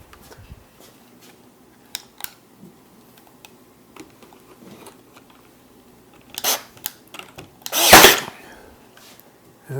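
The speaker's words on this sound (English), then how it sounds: "then bring the backer to where it needs to be, and I'll nail it on this side" Nails are driven into a backer panel on an armoire, giving scattered light taps and then a few loud, close blows near the end.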